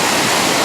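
Rain-swollen stream water cascades over rocks after heavy rain, a loud, steady, close rush of white noise with no breaks.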